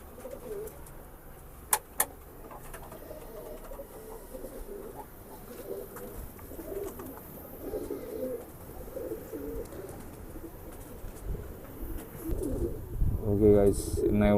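Pigeons coo softly in a loft where eggs are hatching, their low murmuring calls running under quiet talk, with two sharp clicks early on and handling noise near the end.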